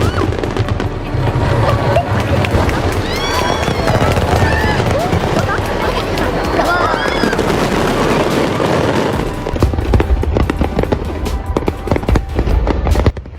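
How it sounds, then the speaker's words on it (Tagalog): A fireworks display in Japan pops and crackles continuously in a dense, loud barrage, with whistling rockets rising and crowd voices murmuring underneath throughout. "Ganto namang kasatisfying panoorin ang fireworks display sa Japan."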